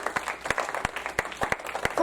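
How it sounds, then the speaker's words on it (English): Church congregation clapping during a sermon, a brief burst of scattered individual claps with sharp uneven hits over a soft background of crowd applause, moderately quiet. "If his grace is enough, clap for him."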